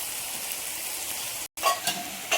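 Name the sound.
spice masala frying in oil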